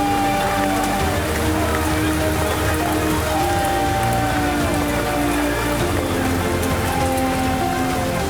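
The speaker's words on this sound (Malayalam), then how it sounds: "പതിനേഴ് മണിക്കൂർ പിന്നിടുമ്പോഴും മഴ ശമിക്കുന്നില്ല" Heavy monsoon rain pours down steadily on surfaces during a funeral procession in Kerala, a dense, loud, unbroken roar of drops with a voice faintly audible beneath it.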